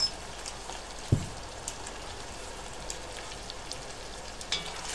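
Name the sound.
stirring carrots, onions, garlic and ginger in olive oil in a pot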